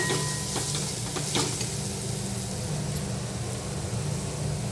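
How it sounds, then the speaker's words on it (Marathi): Spiced masala for a masoor dal and ridge gourd dish sizzles and gets stirred in a pan, a continuous close hiss with occasional scraping strokes, no voices. "आता हे आपण व्यवस्थित परतून घ्यायचं आहे सगळं"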